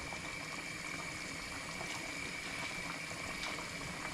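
A pot of salted water with pasta boils steadily, with a continuous bubbling, rushing hiss at an even level throughout and no voices.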